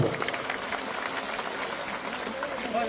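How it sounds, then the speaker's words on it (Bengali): Audience applause at a political meeting, a dense sustained clapping from a large crowd that fills the whole moment at steady loudness, close and continuous. "আমার ছোট ভাই পরেশ্রাম দাস আমি তার জন্য সবাই মিলে একটা করতালি দেওয়ার জন্য আমি অনুরোধ করব"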